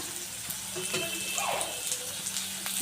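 Onion, shredded cabbage and chillies fry in hot oil, giving a steady close sizzle with faint stirring scrapes and a few soft clicks, and no talk over it.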